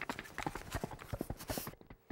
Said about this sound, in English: Miss Long spurred her horse into an even faster gallop and passed one of the racers in front of her.